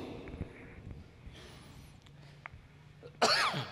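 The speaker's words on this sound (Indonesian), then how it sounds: "batuk" A single sharp cough rings out near the end, loud and close against a quiet room during a religious lecture, after faint scattered rustling and low murmurs.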